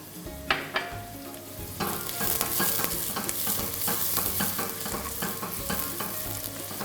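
Onions sauté in a pan for Muğla-style bulgur purslane kavurma, with a steady sizzle of frying and intermittent scraping clicks as the spoon stirs, close and unaccompanied by talk.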